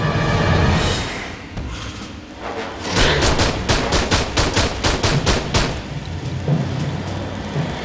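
Rapid automatic gunfire rattles in the video game Aliens: Colonial Marines, a loud burst of about a dozen evenly spaced shots set against a rumbling, noisy combat background.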